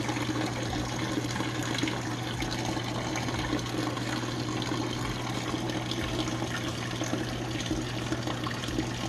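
Fluid pours and splashes out of a Toyota 2JZ-GTE engine swapped into an FR-S during removal, a steady, loud, continuous rushing gush with no pause, close by and with no voices.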